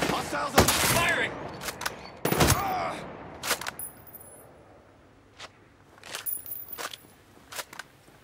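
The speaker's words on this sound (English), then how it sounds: "Hostiles are firing." Hostile gunfire in the video game Ghost Recon Breakpoint: sharp bursts of rifle shots in clusters, loud early and then scattered fainter volleys with distant crackling.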